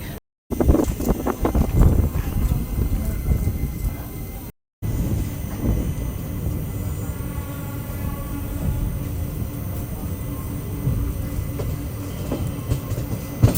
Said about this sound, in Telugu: ఒక రెండు నిమిషాల హాల్ట్ తర్వాత మన ట్రైన్ తిరిగి బయలుదేరింది